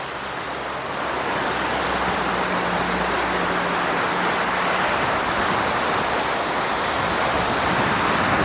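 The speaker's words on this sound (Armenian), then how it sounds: "ահա որ շատացել է գետը" A river swollen by rain rushes past near a bridge, a loud, steady broadband roar of churning water with some wind across the microphone.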